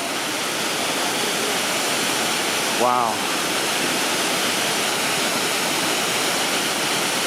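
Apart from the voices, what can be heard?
waterfall at Inglis Falls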